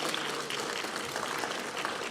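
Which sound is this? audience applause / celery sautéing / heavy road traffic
audience applause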